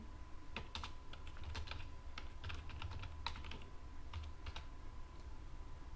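Keys clatter on a computer keyboard as text is typed into a multiline text box in drafting software, a steady run of quiet clicks in uneven bursts over a low background hum.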